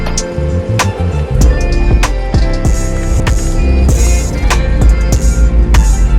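A Subaru WRX STI on its stock exhaust pulls away, its engine rumbling loud and close with rising revs and gear changes, the drone holding steady under rattles and wind noise.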